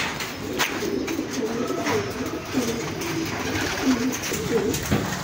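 Breeder pigeons coo together in a low, repeated, throaty rhythm while they eat at feeding time, close and continuous with a faint background hum.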